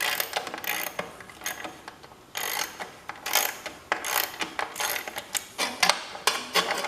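A ratchet tightens a part during an ignition system replacement on a 1973 car. It gives a run of close, sharp metallic clicks in uneven bursts, with no voices.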